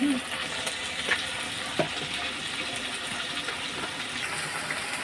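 Katla fish oil frying in a pan: a steady, close hiss of sizzling oil runs throughout, with a few soft scrapes and taps of stirring breaking through.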